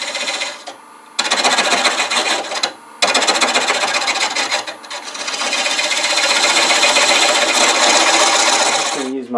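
A lathe parting tool cuts into a turning wooden spatula pot with a continuous raspy scraping, broken by two brief pauses early on, then running steadily and loud.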